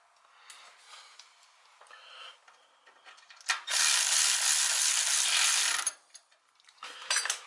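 Ratchet wrench working on the front brake line fitting of a Jeep JKU, giving a few soft clicking bursts, then a loud sustained rasping run of ratcheting for about two seconds, close up with no talk.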